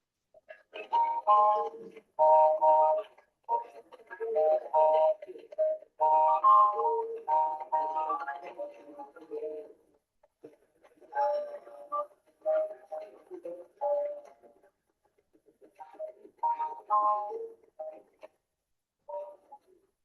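Tonal chimes and tinkling mechanical melodies from clocks and music boxes at a clock and music box museum in Utrecht, playing in clear repeated phrases with short pauses, fairly close and alone without talk.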